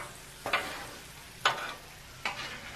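Ground beef browning on a Royal Gourmet griddle, a quiet steady sizzle punctuated by three scraping spatula strokes at even intervals.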